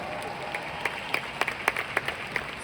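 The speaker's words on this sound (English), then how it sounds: "Can we all give ourselves a round of applause today?" Audience applause at a seminar-style course talk: a faint, thin patter of scattered hand claps, with a few sharper individual claps standing out, heard from a distance in a room.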